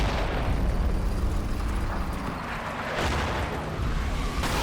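SS artillery barrage in the game Combat Mission, Operation Epsom, a continuous rumbling roar of explosions with several heavier booming bursts breaking through the dense, loud wall of blasts.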